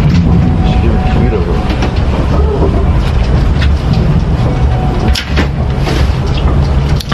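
A passenger train in England rolls steadily along the rails, giving a loud, constant rumble with faint rhythmic clatter and occasional sharper knocks. Voices can be heard faintly in the carriage.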